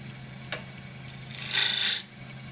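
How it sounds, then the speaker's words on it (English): A half inch spindle gouge cuts wood on a lathe running at about 1600-1700 RPM. A short tick is followed by a half-second scraping cut over a steady motor hum. "That's the half inch spindle gouge"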